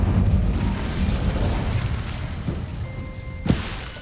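An Incendio fire spell in Hogwarts Legacy on PS5 lands as a low rumbling whoosh over a busy game backdrop, capped by a sharp burst about three and a half seconds in.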